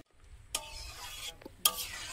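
Dal and vegetables for cauliflower dal are tipped into spices in a pan, giving two sharp sizzling bursts that fade into a soft steady frying hiss, with quiet clatter between.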